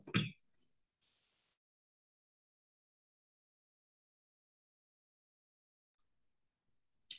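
A person's dry throat clearing, a short harsh burst right at the start and another clipped one at the very end, separated by near silence with a faint brief rustle.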